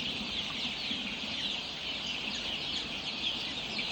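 A dense, unbroken murmur of about 2,100 nineteen-day-old chickens clucking together in a crowded poultry shed, steady and fairly faint.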